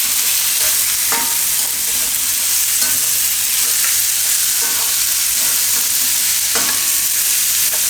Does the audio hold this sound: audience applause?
no